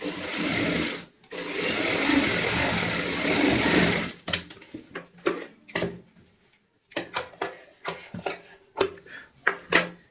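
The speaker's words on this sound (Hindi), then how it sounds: "अब हम दूसरी साइड भी उसी पॉइंट पे सिलाई लगाते हैं।" Domestic sewing machine stitching a round cushion cover, running in steady bursts for about four seconds, then pausing and giving short clicks and brief runs of stitches up close.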